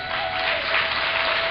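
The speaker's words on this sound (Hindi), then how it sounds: "एक बार ताली बजाइए" A large crowd applauding at a religious Bhagwat Katha gathering, dense continuous clapping filling the whole moment, loud and steady with no break.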